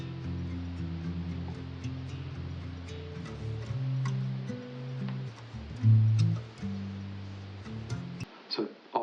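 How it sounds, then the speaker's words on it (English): Muddy, low-passed nylon-string guitar arpeggio with the high end dampened like an old microphone, steady plucked notes looping for several seconds before cutting out near the end. "I just put down this arpeggio I played on the same nylon guitar"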